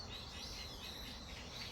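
Birds call and chirp outside a house at sunset, a steady faint chorus of high tweets spread over quiet background noise, with no one speaking.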